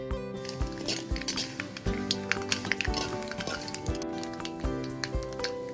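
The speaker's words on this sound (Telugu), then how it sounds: "నూనె వేడయ్యాక 2 టేబుల్ స్పూన్ల పోపు దినుసులు, అలాగే 2 ఎండుమిర్చి వేసుకొని వేయించుకోవాలి." Mustard seeds and two dry red chillies fry in hot oil, crackling and spitting with a lively, uneven sizzle and rapid pops, close and loud, while a soft musical background plays underneath and nobody speaks.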